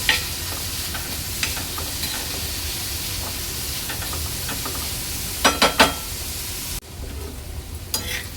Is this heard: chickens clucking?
no